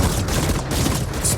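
Exploding spiders blowing up in the Ascent game, a dense, loud burst of overlapping blasts and crackling gunfire-like pops filling the short moment without talk.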